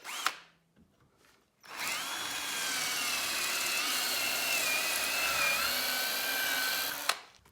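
A power drill bores through wood held in a vise, working up through progressively larger bits toward a half-inch hole; after a couple of brief taps, the motor whines steadily and loud for about five seconds, then stops abruptly.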